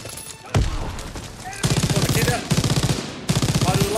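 Rapid machine gun fire in the Call of Duty WWII video game, loud bursts of steady rhythmic shots with short gaps, layered over battle noise and some game voices.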